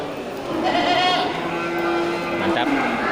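At an animal market, large jumbo Simmental cattle give a short low call amid background chatter and market noise, close by.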